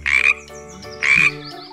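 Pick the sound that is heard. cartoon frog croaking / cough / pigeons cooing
cartoon frog croaking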